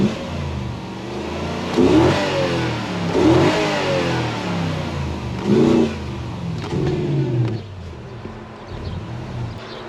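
A 2013 Toyota Hilux with a 3UZ engine runs roughly from an intermittent voltage drop, revving up in several uneven bursts between lower, unsteady idling, close and fairly loud with no talk.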